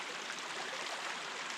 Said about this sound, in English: this is a little creek here. It's running here.